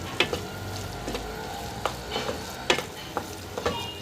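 Black pepper powder is stirred into a soya chunk masala frying in a pan: a low sizzle under intermittent spoon scrapes and taps against the pan, close and quiet, no talking.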